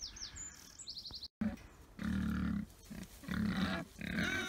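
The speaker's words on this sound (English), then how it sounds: "There's the pigs." Pigs on a paddock grazing farm grunt and squeal close by in several loud bursts, with bird chirps and twittering in the background.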